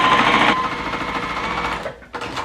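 A sewing machine stitches a quilt block, a loud, close, steady mechanical whir with a rapid pulse that runs continuously and breaks briefly near the end.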